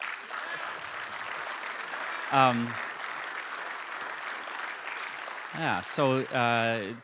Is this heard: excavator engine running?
no